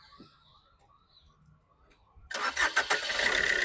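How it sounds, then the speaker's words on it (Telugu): A 2019 Maruti Suzuki S-Cross Zeta manual car fires up after a quiet pause, the starter cranking briefly before the engine catches and settles into a loud, steady idle close by. "మీకు ఇంజన్ కూడా స్టార్ట్ చేసి చూపిస్తాను"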